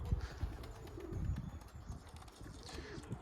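Young pigeons out flying for the first time, with soft cooing and bird calls over a low, busy outdoor background, plus a few faint thumps and flutters.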